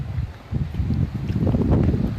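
Blustery wind buffeting the microphone on a public beach in Manavgat, Turkey, with waves, low rumbling gusts, constant and fairly loud, no voices heard.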